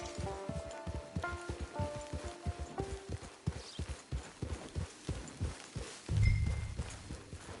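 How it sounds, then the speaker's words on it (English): A horse walks in Red Dead Redemption 2, its hooves clip-clopping in a steady, close rhythm over soft melodic game music, with a brief low thump near the end. "It's your horse."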